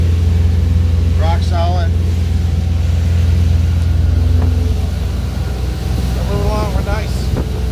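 A 2004 Sea Ray Sundancer 28 motorboat cruising at speed, its engine a loud, steady low drone under wind buffeting, with someone talking briefly over it.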